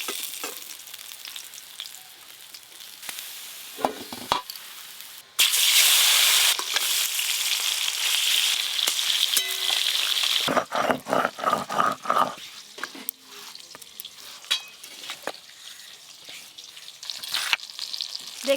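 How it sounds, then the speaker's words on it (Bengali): Fish sizzling in hot oil in a home kitchen, a loud crackling fry that swells in the middle, with stirring clatter and a dog barking and growling at times. "দেখতে দেখতে এই মাছগুলো ভাজা হয়ে গেল।"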